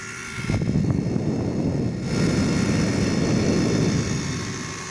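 An inverter air conditioner compressor runs with a steady low mechanical hum and broad rumbling drone, continuous and fairly loud throughout, close by.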